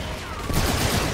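A brief, dense burst from an electronic ammo gun firing in Call of Duty: Infinite Warfare, a loud rush of rapid shots that surges after a quieter moment.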